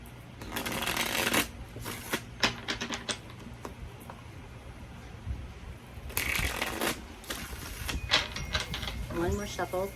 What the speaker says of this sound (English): One more shuffle for my Aquarius.